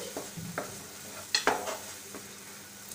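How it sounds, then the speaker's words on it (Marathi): Coriander powder and spices frying briefly in a pan for paneer do pyaza, a faint steady sizzle broken by a few soft spoon scrapes and one louder stirring clatter midway. "हे थोडंसं फ्राय करणार आहोत"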